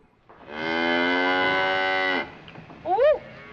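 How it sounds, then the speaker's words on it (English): Cattle moo in a 1940 film: one long, loud, drawn-out bellow, then a brief pause and a short, higher call. "Hopefully those cows didn't get all out of the hole in the fence."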